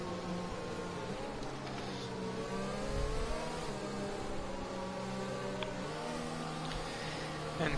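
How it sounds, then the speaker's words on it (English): Racing car engines idle and rev as cars line up on the grid at Bahrain in an F1 video game, a steady layered engine drone with rising and falling pitch sweeps and occasional blips. "And cars are gonna line up on the grid for the race start."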